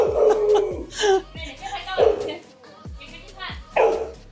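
A fluffy dog shut behind a door in Indonesia gives repeated yelping barks and drawn-out howl-like cries, close and fairly loud, coming in several bursts with short pauses between them.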